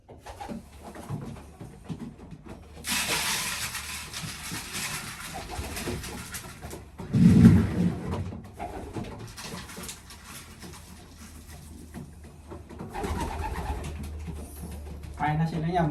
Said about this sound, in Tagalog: Yan mga boss. Kalapati ko.